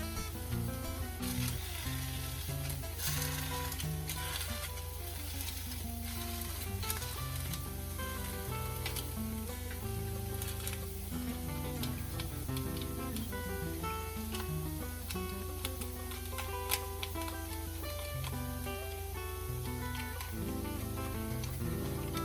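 A cassava tortilla sizzles in oil on a hot pan, giving an even, steady crackle that holds close and constant throughout, with no talking.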